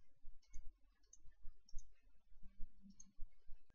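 A computer mouse clicks sharply a few times in a quiet room, with separate, close taps spaced irregularly, alone and without speech.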